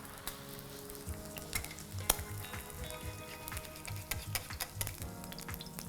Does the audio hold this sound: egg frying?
yes